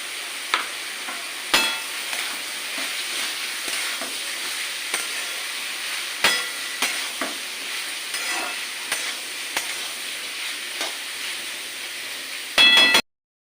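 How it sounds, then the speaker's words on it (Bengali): Potatoes and ridge gourd frying in a pan for a spicy jhinge dish, with a continuous bright sizzle broken by repeated spatula scrapes and clacks, ending in a louder burst of stirring before cutting off. "আমার আলু ঝিঙে খুব সুন্দর করে ভাজা হয়ে গেছে"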